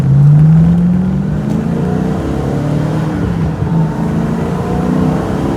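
A V8-engined car pulls hard through the gears on a former national road into the Derbyshire Peak District, its deep exhaust note climbing steeply in pitch, loud and close throughout.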